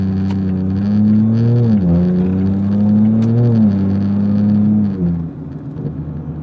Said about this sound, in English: hopefully you guys can hear the turbo whistle